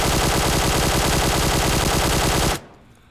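A QBZ assault rifle fitted with a flash hider fires in PUBG Mobile: a loud, unbroken burst of rapid automatic gunfire that runs for over two seconds, then cuts off abruptly into near silence.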